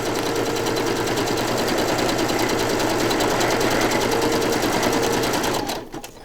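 A sewing machine runs fast and steadily at close range, giving a loud, continuous rapid mechanical whir that slows and stops near the end.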